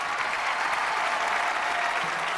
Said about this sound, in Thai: ปรบมือหน่อยปรบมือหน่อย ขอเสียงปรบมือนะครับ